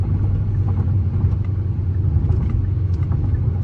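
A Genesis car with an upgraded exhaust accelerating, giving a steady, loud, low rumbling drone that holds without a break, with no voices over it.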